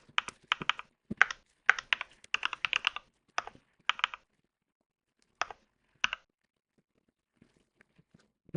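Quick bursts of computer keyboard typing during Selenium and Java coding, with clustered clicks and short pauses that thin out to a few isolated keystrokes, then quiet near the end.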